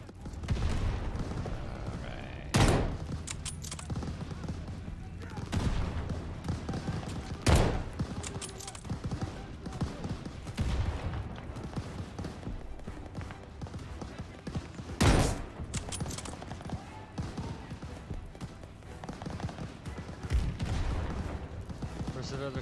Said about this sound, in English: It's like an assault rifle